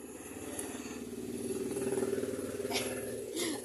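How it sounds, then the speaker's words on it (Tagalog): A motorized tricycle's engine drones and grows louder as it nears, peaking mid-way with a rough, revving buzz before easing off, heard at moderate distance in a Philippine street. "Ingay ng tricycle."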